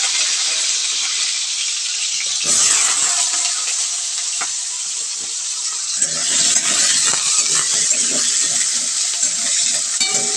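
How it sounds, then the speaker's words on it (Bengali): Potatoes frying in mustard oil in a wok, a bright, constant sizzle with stirring scrapes and clinks close up, growing busier partway through. "এবার একটু আলুগুলো একটু ভেজে নিই।"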